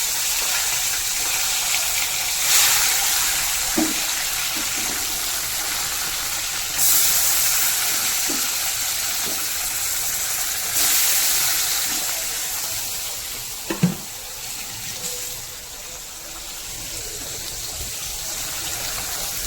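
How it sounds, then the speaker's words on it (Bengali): Fish pieces coated in spice frying in hot oil in a home kitchen, a steady loud broadband hiss running throughout with a few brief clinks and pops. "মাছগুলো মাখিয়ে নিয়েছি, তো এখন ভেজে নেব।"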